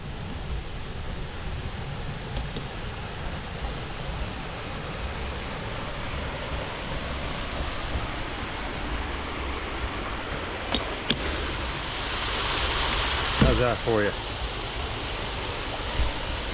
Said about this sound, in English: That's the red waterfall right there.